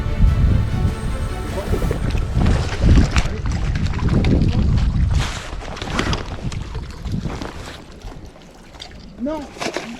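Strong gusty wind buffeting the microphone during trout lure fishing in the Aubrac highlands, loud rumbling gusts rising and falling, near and heavy, with people talking through it.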